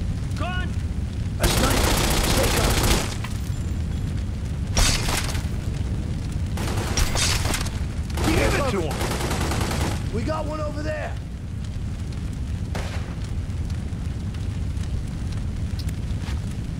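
Gunfire and explosive bursts in Godfather 2 at the Almeida Compound in Cuba: several loud, broad blasts lasting a second or more come in clusters over steady background game noise, with voices speaking in between.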